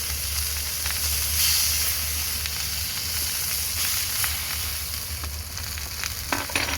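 Pork sizzles and fries steadily in a pan on a camp stove in a parking lot, a continuous close crackling hiss with a few faint clinks near the end.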